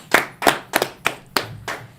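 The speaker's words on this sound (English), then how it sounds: "Clap it up for that." Seven sharp claps ring out in a loose, fairly regular rhythm at a Sabbath service, near and distinct with quiet room between each.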